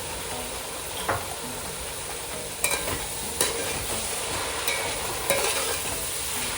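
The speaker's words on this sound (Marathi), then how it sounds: "आता त्यात चिली विनेगर टाकून परतून घेऊया।" Capsicum stir-fried with chili vinegar in a pan, a steady loud sizzle with occasional sharp scrapes and clanks of the spatula as it is tossed.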